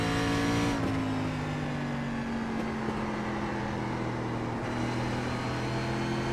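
Race car engines in an iRacing oval race at Richmond International Raceway drone steadily, a sustained tonal whine with slowly falling pitch and occasional shifts, close and continuous without talk.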